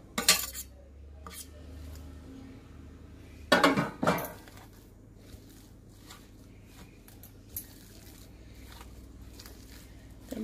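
Chopped onion and coriander are tossed together in a bowl, making clattering, clinking utensil and dish contacts, with a loud cluster of clinks near the middle and quieter rustling mixing throughout.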